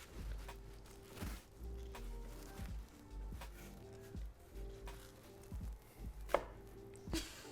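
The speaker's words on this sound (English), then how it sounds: "I'm chopping all the scallions, just thinly slicing them" A knife thinly slices scallions on a cutting board for tomato soup, giving a run of quick, close chopping taps in uneven bursts.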